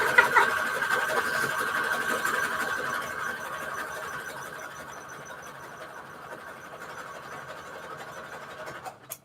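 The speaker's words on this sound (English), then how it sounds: "So now I got this sewed all the way around for this journal." A sewing machine stitches around the edge of a hexagon patchwork junk journal with a steady, fast mechanical whirring that gradually softens and then stops abruptly.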